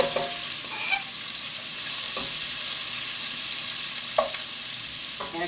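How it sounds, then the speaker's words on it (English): Peppers and onions sauté in heated butter in a pot, a steady close sizzle with occasional stirring scrapes throughout. "We've got 2 tablespoons of butter in our pot that has heated, so we're ready to saute the peppers"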